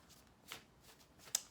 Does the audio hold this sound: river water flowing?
no